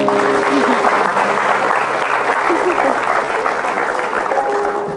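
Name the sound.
audience applause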